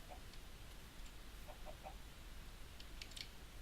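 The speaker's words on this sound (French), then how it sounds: "Oh là il y a des poules." Faint, scattered chicken clucks from Minecraft sound in a few short bursts over a quiet background hiss, with no speech.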